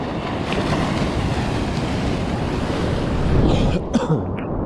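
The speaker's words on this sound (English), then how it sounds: "We're going to end it with these couple waves." Ocean surf roars steadily and close by while someone is out surfing, a dense rush of breaking water with wind buffeting the microphone, swelling slightly near the end.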